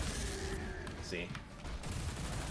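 Plasma weapon firing in Doom: The Dark Ages, with loud, dense bursts of energy shots and crackling impacts against enemy energy shields, continuous and close.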